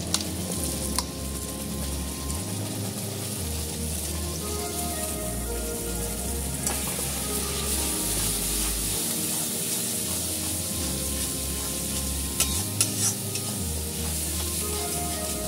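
Coriander leaf paste sizzling and frying in masala for a katla fish dish, with a steady hiss and repeated rhythmic scraping strokes of stirring, close and loud, no talking.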